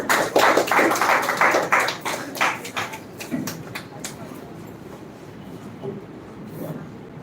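An audience at an English-speaking competition semi-final claps for a student speaker. Dense, loud applause fills the opening seconds, then thins into scattered claps and fades to quiet room tone with faint murmuring.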